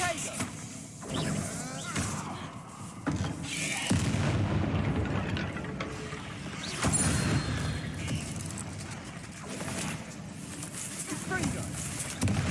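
Confringo blasting spells from Hogwarts Legacy go off as booming explosions, several heavy blasts spaced across the stretch, with a voice speaking between and over them.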